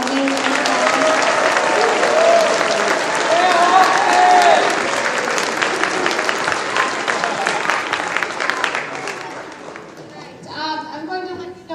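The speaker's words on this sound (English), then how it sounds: "give our fourth grade students one more round of applause for their amazing performance" Sustained applause from a school audience at an elementary school Veterans Day assembly, a dense steady clapping that continues for about ten seconds before thinning out, with voices talking over the end.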